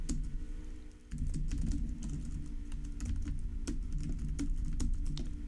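Rapid clattering keystrokes on a computer keyboard, steady and close, set over a constant low hum from nearby equipment.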